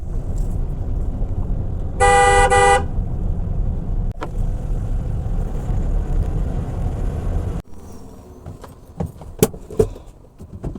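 A car on a hill road to Valparai sounds a single sharp horn blast lasting under a second, set against a steady engine and road drone that later drops away to quieter rattles and clicks.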